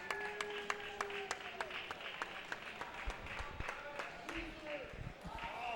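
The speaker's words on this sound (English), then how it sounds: "The adoring crowd of Duke" Crowd applause and cheering at the Classic Tetris World Championship, a steady wash of clapping with sharp claps standing out, mixed with a commentator speaking over it.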